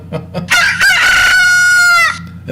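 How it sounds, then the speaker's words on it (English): A rooster crows once, loud and close, a full drawn-out call with a few clucks just before it. "Isn't that a rooster?"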